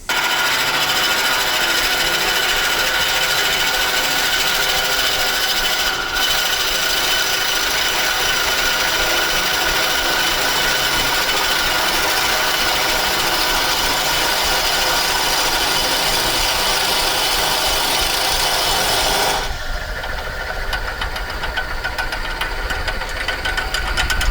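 A steady, loud grinding whine of a drill with a 2 1/8 inch Forstner bit boring into green branch wood runs continuously, then cuts out near the end, leaving a lower rumble.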